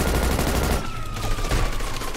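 Rapid gunfire bursts from a GTA RP video game shootout, loud and dense at first, then easing into scattered shots over a steady background, with no talking.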